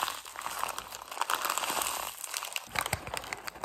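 Dried seaweed flakes are crushed and crumpled by hand in a home kitchen, giving a brief run of crisp crinkling and crunching rustles, close to the listener, with no talking over them.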